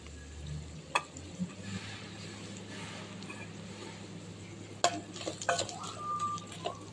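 Raw banana pieces fry and sizzle in a pan with a steady crackling hiss, broken by a few clinks and stirring knocks near the end.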